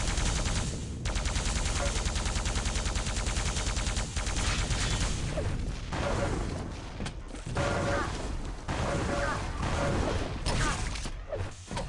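Constant rapid weapon fire from an arena shooter match, with rockets and a lightning gun blasting, dense crackling bursts and thuds running continuously with brief gaps.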